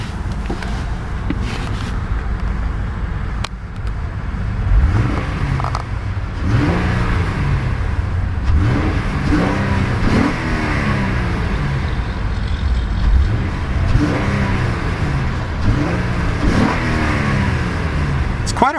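The 3.7 V6 of a 2010 Acura RL revs repeatedly, rising and falling blips over a steady idle, heard from close by with a voice speaking at times.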